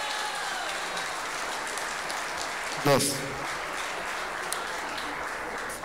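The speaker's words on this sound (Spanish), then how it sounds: "Gracias por esos aplausos" Audience applause at a live comedy stage show, a steady wash of clapping that holds throughout, with a brief louder burst and a voice speaking over it partway through.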